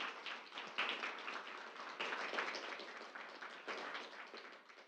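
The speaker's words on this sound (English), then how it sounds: "Healthy Democracy, maybe one more round of applause from them" An audience claps for Healthy Democracy at a civic assembly on youth homelessness, a steady round of dense applause from a room full of people, moderately loud and continuous for several seconds with no talking over it.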